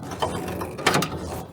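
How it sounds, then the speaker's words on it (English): A metal clamp gun ratchets while tightening a tie on an ICF foam block wall. It makes two short, close mechanical clicking bursts in under two seconds. "this gun acts as like a tightener, but also as like it's almost like a weird little ratchet type thing"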